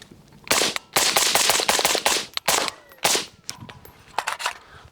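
Several rifle shots in quick succession fired through an Otter Polonium suppressor on a 5.56 gun, each a sharp, loud, muffled crack close by, with brief irregular gaps between rounds and no talking.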